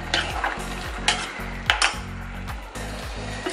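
Spices tempering in hot ghee sizzle steadily up close while a utensil scrapes the pan in regular stirring strokes, each one marked by a short clatter.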